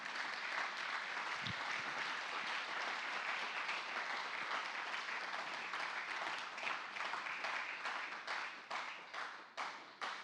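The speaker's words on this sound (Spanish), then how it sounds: "¿No te provoca dar un aplauso al Señor?" A church congregation applauds during a Spanish-language sermon, sustained dense clapping that fills the room at steady volume, then thins into scattered, separate claps near the end.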